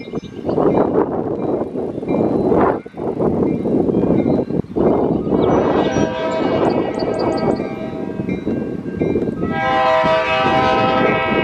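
Capeflyer passenger train arriving at Buzzards Bay station, a loud continuous rumble of wheels and rails with engine roar, then a sustained horn blast and squealing brake tones toward the end, close by.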